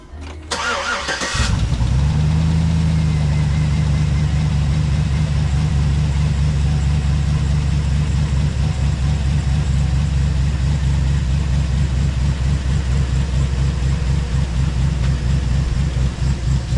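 A truck engine just back from an oil change cranks briefly, fires up and settles into a steady, loud, close idle with an even low rumble that runs on without talk.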